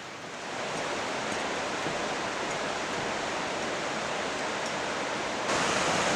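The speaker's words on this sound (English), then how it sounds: "There is a very crystal clear Graves Creek, a tributary to the East Fork of the Quinault." Crystal clear Graves Creek, a tributary of the East Fork Quinault River in Olympic National Park, rushes in a steady, full broadband roar heard close by with no one talking.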